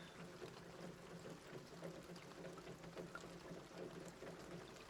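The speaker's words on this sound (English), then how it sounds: "And then we're going to put some coolant in it." Coolant being poured into a truck radiator during a junkyard V8 swap, a faint steady trickling and gurgling pour running continuously under quiet background noise, with no talk.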